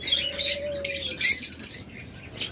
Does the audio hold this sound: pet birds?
yes